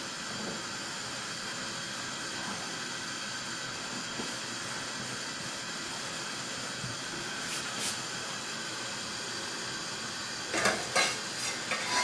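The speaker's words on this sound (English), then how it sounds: "put the lid on, bring it back to the boil as fast as you can" A lidded pot of cabbage comes back to the boil, a soft continuous hiss and bubbling rumble with faint clinks, then a few louder rattles of the lid near the end.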